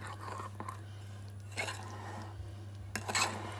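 Muffin dough is stirred in a bowl with soft wet squishing and a few clinks against the sides, quiet and intermittent over a low steady hum.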